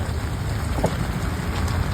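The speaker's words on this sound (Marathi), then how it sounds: "प्रत्यक्ष थेंब थेंब पडायचा चालू झालेला आहे" First rain of a storm pattering steadily on surfaces outside a small shop in gusty wind, a dense continuous hiss of drops heard close and fairly loud with no talk.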